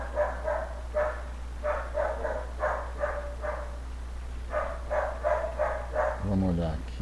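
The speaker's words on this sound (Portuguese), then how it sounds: "cachorrinho latindo" A small dog barks in quick bursts of several yaps, pausing and then barking again, fairly near, over a steady low electrical hum, with a brief whine or whimper at the end.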